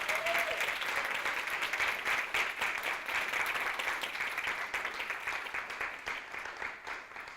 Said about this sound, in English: Can we give our readers another round of applause?